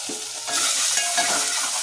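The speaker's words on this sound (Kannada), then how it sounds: "ಇದು ಚೆನ್ನಾಗಿ ಫ್ರೈ ಆಗಬೇಕು." Garlic ginger paste and onion fry in a pan, a sudden surge of loud, dense sizzling after a brief stir, then a constant close hiss with light scraping and no voices.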